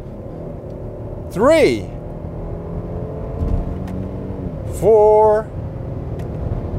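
A 2022 Kia K9 with an 8-speed automatic and paddle shifters idles with a low hum, broken by two sharp engine rev swells as gears change, while a man counts aloud.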